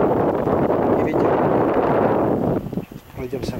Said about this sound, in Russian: И ветер.